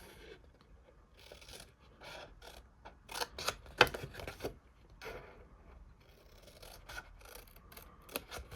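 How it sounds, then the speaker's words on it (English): Scissors cut along the score lines of a card for a stamped papercraft project, making a series of quiet crisp snips and creaking blade strokes, some in quick clusters, with no talk. "I'm going to cut down all of these score lines down to that first score line"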